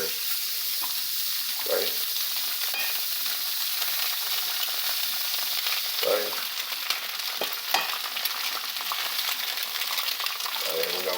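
Butter sizzling and frying in a hot pan, a loud, steady, dense crackle that runs throughout with occasional scraping stirs, close up.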